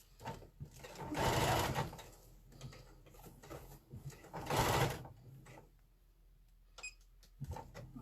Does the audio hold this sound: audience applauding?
no